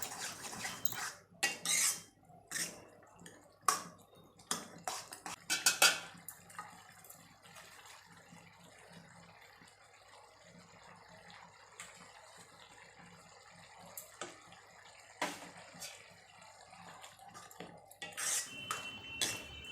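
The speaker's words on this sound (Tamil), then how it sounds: "நம்ம இதை நல்லா கலந்து விட்டுக்கலாம்" A metal spoon scrapes and clinks against a pan while vegetable curry is stirred over medium heat, with irregular sharp taps and a low background hiss, fairly quiet throughout.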